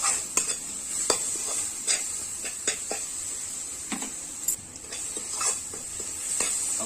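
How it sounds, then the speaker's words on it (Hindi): Chopped tomatoes and green chillies fry in a pan with a steady, faint sizzle, while a spoon stirs and scrapes against the metal in irregular clicks, with no voices. "अभी से हम भूनेंगे कम से कम 10 मिनट तक"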